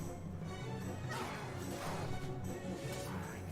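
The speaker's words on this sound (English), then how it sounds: "Smashing the tombstones, a little bit of destructibility here and there." Stone tombstones shatter in the MediEvil remake video game, with crashing impacts around 1.2 and 2.5 seconds standing out over a dense, continuous game soundtrack.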